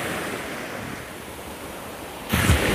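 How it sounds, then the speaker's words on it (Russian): A continuous wash of Black Sea surf hisses steadily at Anapa in the early morning, then a wave crashes louder near the end with a low thump. "какая волна идет"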